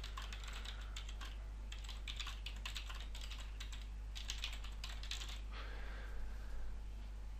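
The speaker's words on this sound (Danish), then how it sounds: "Jeg skriver bare lige det her og forsøger på at stave nogenlunde rigtigt." Typing on a computer keyboard while writing an email in a web form: steady bursts of clicking keystrokes in uneven runs with short pauses, close and moderately quiet over a constant low electrical hum, no voices.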